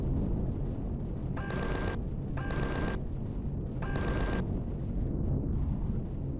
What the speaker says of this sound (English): they're probably shooting out quite a long way